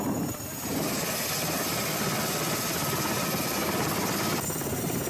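A military helicopter's steady, loud rotor thrum and turbine whine fill the clip continuously during an army operation, with no voices.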